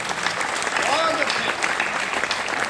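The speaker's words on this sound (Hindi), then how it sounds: "आपकी तालियां वहां तक पहुंचे" Sustained applause fills a hall during a heroic-verse poetry recitation at IIT Delhi, a loud, dense clapping wash with a voice briefly rising over it.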